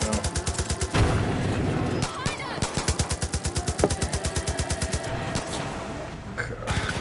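Mounted turret firing in Far Cry 5, loud rapid bursts of machine-gun fire hammering in fast rhythmic streams with brief pauses, voices talking underneath.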